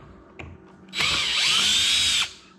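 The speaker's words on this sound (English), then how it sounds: "I'm going to speed up the process and use my electric drive here to be able to get these out." An electric drill spins out screws from a Bissell Cleanview Rewind Pet vacuum, one continuous close, loud high-pitched whir of just over a second between short quiet gaps.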